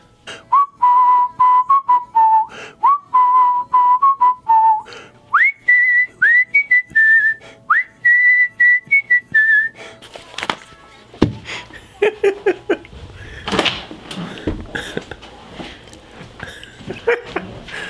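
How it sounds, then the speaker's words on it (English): Melodic human whistling in short repeated phrases, loud and close, first lower then higher in pitch, followed by clattering noises and scattered bursts. "Look at all those whistle tracks."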